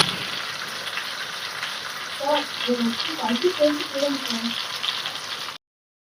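Fish fries in a pan with a continuous hiss. A cluster of bubbly crackles and pops rises in the middle, and someone talks over the sizzle.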